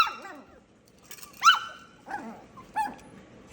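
Excited puppies, eight and nine weeks old, in a playpen give a few short high barks and whimpering yips, spaced across the moment, close and clear over a quiet room.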